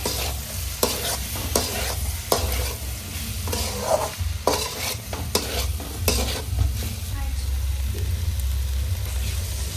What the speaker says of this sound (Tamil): இப்போ நல்லா ஒரு மிக்ஸ் பண்ணி கொடுத்துட்டு பார்க்கலாம் எப்படி இருக்குன்னு